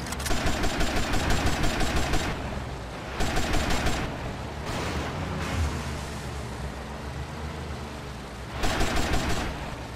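Gunfire in Grand Theft Auto Vice City on Washington Beach: rapid bursts of automatic shots in several volleys, loud and close, with washing noise between bursts.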